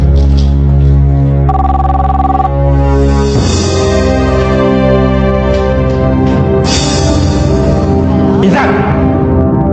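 A telephone rings in a domestic drama scene, with a steady electronic tone for about a second, set against a continuous musical score, while people speak around it.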